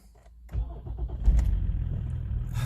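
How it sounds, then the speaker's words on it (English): A BMW E-series car cranks and its engine catches, a brief starter whir giving way to a steady running rumble that stays close and fairly loud to the end. "Engine start."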